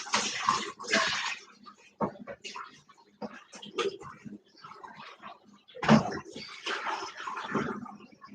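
Water splashes and runs over potatoes being rinsed in a home kitchen, coming in uneven bursts with handling knocks and clatter between them, loud and close.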